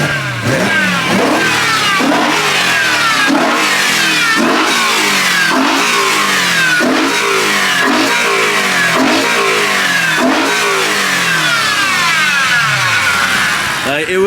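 BMW E92 M3 engine with a worn power steering pump, revved repeatedly in sharp rising bursts that fall back between blips, loud and close, with a faint whine running underneath.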